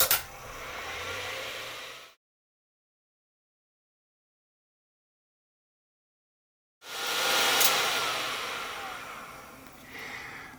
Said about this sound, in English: as soon as you hear the heat gun go on, I'll start the time lapse